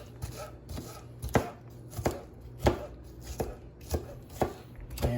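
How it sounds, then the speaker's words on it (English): Two medium onions chopped with a knife on a board for chicken naan, a steady series of crisp, close knife strikes at a regular rhythm with no talking. "And I'm finally chopping the onion here, about 2 medium onion,"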